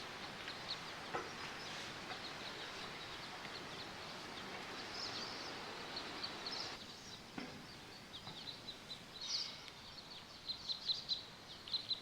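Faint birds chirp and call in the distance over a quiet outdoor hush on a snowy mountain slope on Vancouver Island, with the calls growing busier and more frequent toward the end.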